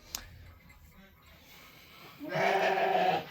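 A goat lets out a single drawn-out bleat near the end, close and clear, after a quiet stretch with faint background noise.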